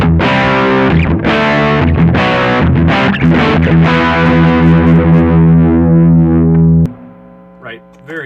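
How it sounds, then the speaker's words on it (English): A heavily distorted electric guitar chugs loudly through a Marshall amp, sustaining thick chords before cutting off to quiet, with faint talk at the end. "we're gonna get into the Marshall thing"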